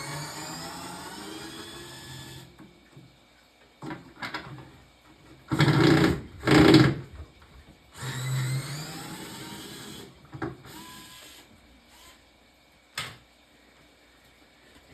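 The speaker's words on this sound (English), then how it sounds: "I'm going to unscrew it from the cabinet," A sound board is unscrewed from a Wizard of Wor arcade cabinet: two short, loud whirring bursts close together, then a fainter one later, separated by quiet handling noises and light clicks.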